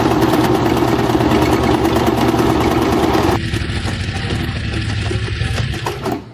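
A household sewing machine runs steadily while stitching, its fast, even mechanical whir continuous and close, with a brief drop in level partway through and no talking.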